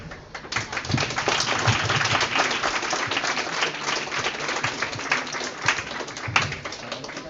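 Audience applause at the inaugural ceremony of a recording club convention, a continuous moderate burst of clapping from a sizeable crowd, slightly distant and roomy, lasting several seconds.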